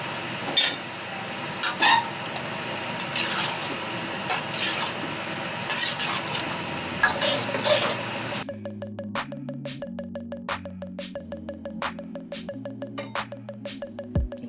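Prawns are stirred into a thickened sauce in a pan, with soft sizzling and repeated scraping and clinking of a utensil against the pan for several seconds, after which music takes over.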